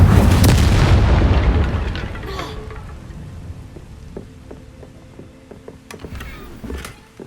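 A burst of the Incendio fire spell cast in Hogwarts Legacy, a loud whooshing boom at the start that fades into a lower, crackling tail with faint chimes and game sounds afterward.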